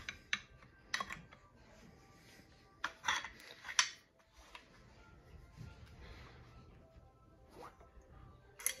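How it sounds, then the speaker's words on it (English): Smith & Wesson 916A shotgun bolt sliding along the receiver tracks during reassembly, giving a few sharp metallic clicks and scrapes at close range amid quieter handling noise. "So I'm going to take our receiver, slide our bolt in there along those tracks."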